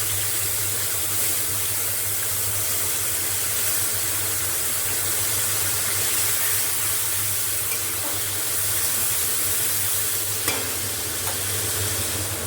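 Ginger, green chili and tomato paste frying in a pan for shukto, a steady close sizzle with soft stirring scrapes and one brief clink near the end, no talking.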